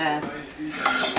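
Dishes and cutlery clink and rattle in quick, busy bursts, fairly close, as if someone is handling pots and utensils.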